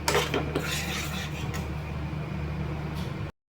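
A utensil scrapes and clatters steadily in a pan as chilli powder and ginger paste are stirred and fried into a spice paste for a bhola fish dish, close and continuous, stopping briefly near the end.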